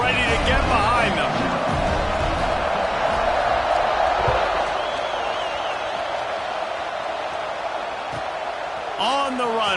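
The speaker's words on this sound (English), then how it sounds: "They're set to kick it off, and this crowd now ready to get behind them." A football stadium crowd roars and cheers before a kickoff, a broad, distant wash of noise with whoops, under a commentator talking throughout.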